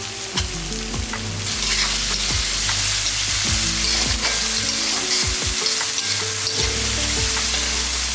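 Chopped beans and carrots sauté for chicken fried rice, a loud, steady sizzle with repeated scraping stirs of the pan throughout and no voices.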